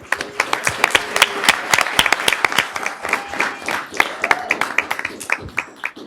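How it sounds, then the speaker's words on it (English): A board of education meeting audience gives a round of applause for Ms. Villanueva, dense steady clapping from many hands with a few voices mixed in. "Please give a round of applause for Ms."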